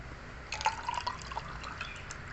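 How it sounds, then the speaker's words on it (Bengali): Wood apple (bel) sherbet is poured from a container into a glass with ice cubes, giving a soft, faint liquid trickle with light drips and splashes over a couple of seconds, with no talking. "এবার এটা আমি এই যে পানা করে রেখেছি, বেলের শরবত হোক পানা হোক, ঢেলে দেবো"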